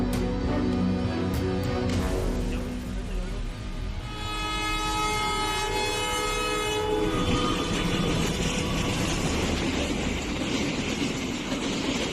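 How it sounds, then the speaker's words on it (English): A train horn blasts in long, sustained tones as the train prepares to depart from tracks where monkeys gather, over steady rumbling rail noise, then gives way to the clatter of the moving train. "Only when the train signaled that it was about to depart did the monkeys scatter"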